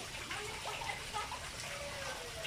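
A waterfall runs near the waiting area of a resort in Tayabas, Quezon, a steady soft wash of falling water, faint and continuous, with a voice talking faintly over it.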